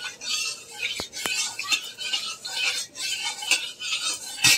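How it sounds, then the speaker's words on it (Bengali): A spoon stirs hot oil in a kadai, giving repeated sharp metallic scrapes and clinks at an irregular rhythm, close and fairly loud with no talking. "তো তেলটা একটু নেড়ে চেড়ে নিচ্ছি।"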